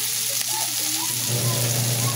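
Ingredients sautéing in a hot pan give a loud, steady sizzle and frying crackle that swells near the end, with soft stirring under it.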